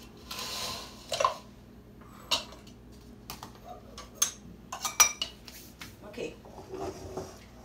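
Dishes and utensils moved while a cook clears a kitchen work area before making fry bake, scattered clinks and knocks of pots and cutlery at close range, irregular and intermittent, with quiet gaps between.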